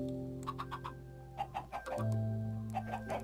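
Chickens clucking in a survival video game, a series of short cluck bursts repeating over a steady in-game hum and drone.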